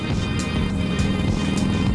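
Dual sport motorcycle engine idling roughly: a loud, low, uneven rumble that pulses irregularly and runs without a break for the whole stretch.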